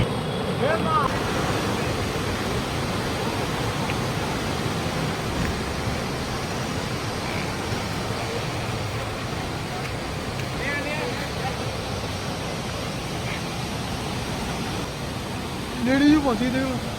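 River water flowing steadily at Kainchi Dham in Uttarakhand, where people bathe on both sides of a small bridge; a broad, constant rushing wash with faint voices and a brief louder splash near the end.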